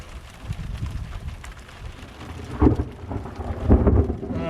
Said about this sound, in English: look at that thunder and lightning